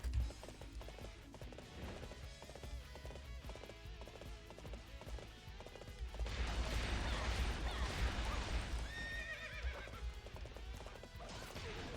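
Galloping horse hooves from the Dynasty Warriors 8: Xtreme Legends video game, a steady clip-clop with whinnying over a busy battle soundtrack, growing louder and denser in the second half.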